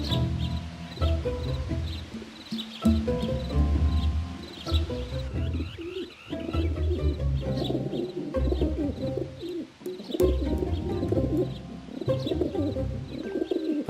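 Pigeons coo steadily in the video game The Secrets of Da Vinci: The Forbidden Manuscript, with soft, rolling calls repeating throughout over a light ambient background.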